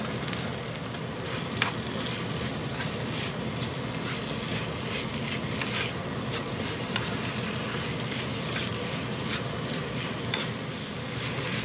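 Spicy fish-cake stir-fry with prepared ingredients and green garlic being tossed in a seasoned pan, giving a continuous close sizzle with light scraping and a few sharp utensil clicks, and no voices.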